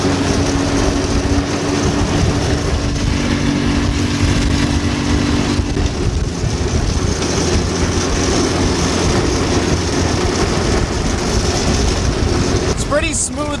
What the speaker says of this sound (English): Let's just see how the go-karts deal with the field